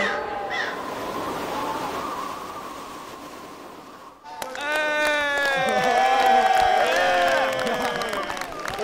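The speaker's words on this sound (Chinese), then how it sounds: "我站起来鼓掌啊" A large studio audience at a rap competition show bursts into sustained applause and cheering after a performance, loud and dense, with music continuing beneath the crowd noise.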